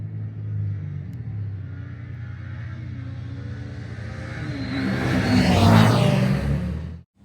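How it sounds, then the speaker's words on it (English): A 2024 Kawasaki Ninja 500 SE 40th anniversary edition on its stock exhaust approaches with a rising engine hum, then swells and passes close with a pitch drop before cutting off abruptly. "that concludes the sound test for the Kawasaki Ninja 500 SE 40th year anniversary edition stock exhaust"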